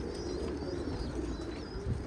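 Pigeons coo steadily on a rooftop loft, a soft continuous low cooing layered over a constant outdoor hum, with no voices present.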